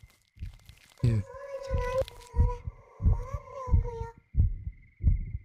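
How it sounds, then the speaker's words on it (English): Loud, deep heartbeat thumping steadily in the horror game Saiko no Sutoka, with a sustained eerie tone over it and a brief bright sting near the start. "Good thing your heartbeat is pretty loud."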